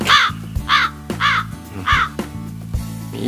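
Crow caws from a sound-effect pad on a V8 live sound card, four loud, harsh calls evenly spaced over a music backing, played alone without talk.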